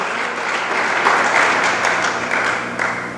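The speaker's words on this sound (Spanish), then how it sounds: "al que le damos palmas a Cristo" A church congregation claps and applauds for Christ during a Spanish-language sermon, a dense, steady wash of many hands sustained for several seconds without speech.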